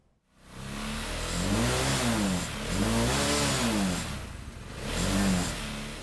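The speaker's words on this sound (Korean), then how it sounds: "거친 후 숨소리 몰아치듯 한껏 그르렁대는 엔진" A student-built racing car with a 510cc motorcycle engine revs up three times, each loud surge rising and falling back to a rough idle, close by with no talking.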